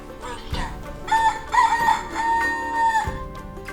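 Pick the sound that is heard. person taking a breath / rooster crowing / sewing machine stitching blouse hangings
rooster crowing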